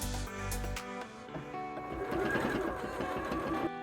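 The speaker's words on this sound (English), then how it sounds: "Then the cuffs are each sewn into a loop." A sewing machine stitches sleeve cuffs for a March Dress into loops, its close, mechanical whir rising and falling in short runs with a rhythmic, buzzing needle pulse.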